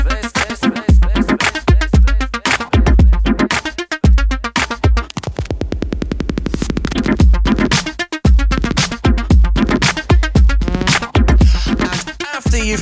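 A dance track plays loud and continuous, with a steady driving beat, dense layered synths and a sustained stretch of rapid pulsing in the middle before the full groove returns.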